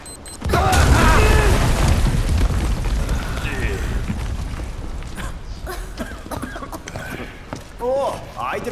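A bomb blast in Final Fantasy VII Remake bursts loud and broad near the start, then rumbles and crackles as debris settles, with game voices speaking over the tail.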